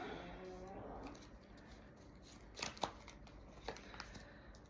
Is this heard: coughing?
no